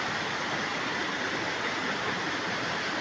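Water rushes continuously over rocks, a steady, dense roar of a clear, rocky stream close by near a waterfall in Phetchabun, Thailand, with no other sounds.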